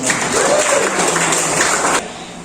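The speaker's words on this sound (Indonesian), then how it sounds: "Baik, tepuk tangan dulu nih, teman-teman" A class of students applauds together in a classroom, steady close clapping lasting a couple of seconds before stopping abruptly.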